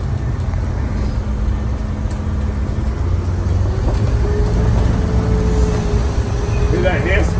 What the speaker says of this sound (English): Hear that hiss?